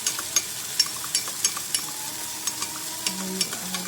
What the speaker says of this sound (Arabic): بعد كده هنزود بقى الميه دي على الجمبري.